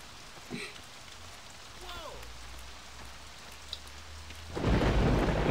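Rumbling thunder and steady rain in the open-world crime game Saints Row 2, a low continuous storm bed with a heavier downpour or thunder roll surging loudly near the end.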